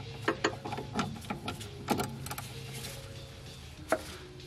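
Ratchet wrench turning a 14 millimeter nut on a car's suspension during a coilover and rim install, a series of quiet, close clicking strokes in uneven bursts with a few sharper metallic ticks, no talk.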